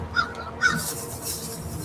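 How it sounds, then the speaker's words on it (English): Two short crow caws sound a moment apart, then a steady outdoor background of light wind and distant noise. No voices are heard. "Look at that crow gliding down."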